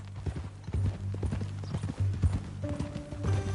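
Horse hooves clip-clop in a steady walking rhythm in Red Dead Redemption 2, close and distinct over a low ambient hum.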